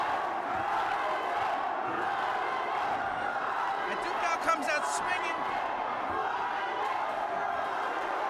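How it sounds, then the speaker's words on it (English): A boxing crowd roars and cheers for the fighter Aducal late in the bout, a loud sustained din with a few louder whoops, under an excited commentator's voice. "he hears the cheers from the crowd of Aducal"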